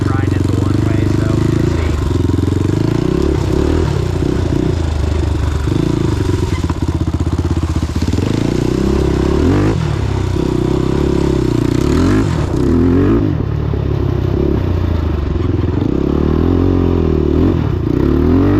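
A Honda 400EX ATV rides a dirt track with different gearing, its engine droning loud and steady throughout, rising and falling as it revs and clatters over the ground.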